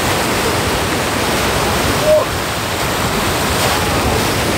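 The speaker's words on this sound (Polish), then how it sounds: "Dzisiaj mocne fale." Strong sea waves break on a beach at Jastarnia, a loud, dense, continuous roar of surf that fills the whole stretch without pause.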